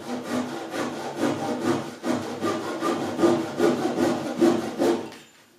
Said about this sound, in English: I shall trim everything off.